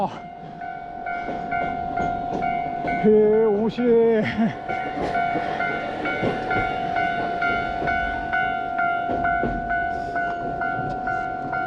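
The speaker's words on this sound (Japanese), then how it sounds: "路面電車ここまで来るんだ。" A street tram rolls past a railway crossing in Toyama with a steady hum and rattle, its horn or bell sounding in a short warbling burst midway, close and continuous, while a man briefly remarks over it.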